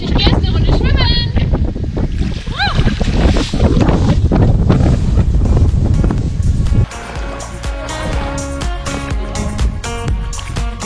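Strong wind buffeting on a Mykonos beach by the sea, loud rumbling gusts over surf and boat noise, with people speaking throughout; the wind drops partway and the sound turns quieter.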